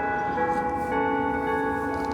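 Clock tower chimes ring out in frozen downtown Fairbanks, Alaska, a sustained, moderately faint bell tone with lingering overtones that holds steady across the moment.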